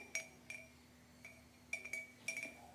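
A pen is dropped into a drinking glass, giving several faint, bright clinks scattered across a quiet room with no talking.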